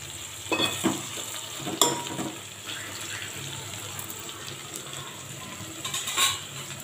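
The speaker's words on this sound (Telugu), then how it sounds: "ఇలా 2-3 నిమిషాలు ఇవి కూడా ఆయిల్లో మగ్గనివ్వాలి" Mixed vegetables fry in oil for a vegetable sambar, giving a steady soft sizzle broken by a few scraping stirs of a spoon against the pan, close and with no talking.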